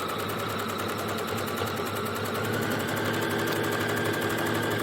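A sewing machine stitches tote bag strap handles in a steady, fast mechanical whir with an even rhythm, close by and alone.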